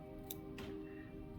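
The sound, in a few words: scissors cutting hair while tying a Muddler fly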